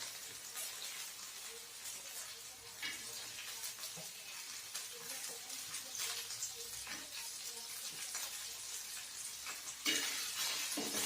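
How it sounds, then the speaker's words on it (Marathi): Garlic cloves frying with green chillies in a pan for a spicy chilli thecha, a steady soft sizzle with scraping stirring and a sharper clatter near the end. "बघा, आपल्या मिरच्या आता छान परतलेल्या आहेत। त्यामध्ये लसणाच्या पाकळ्या टाकूया।"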